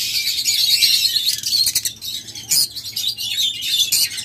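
A flock of caged pet breeding-pair birds chirps nonstop, with dense, overlapping high tweets and calls throughout, close and fairly loud, with no talking.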